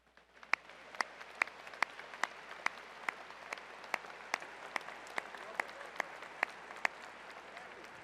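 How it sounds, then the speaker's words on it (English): Sparse, spaced claps ring out through a large hall at a Texas Tech University commencement as the faculty stand, a thin round of applause with distinct individual hand claps over a low background hum. "I'd like members of the faculty of Texas Tech University to rise, and let's give them a round of applause"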